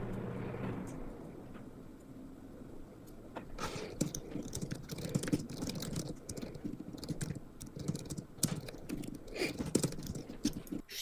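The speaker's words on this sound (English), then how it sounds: "She doing them anger typing." Fast, hard typing on a computer keyboard, a dense run of loud clattering key strikes that continues steadily through the clip with no talk over it.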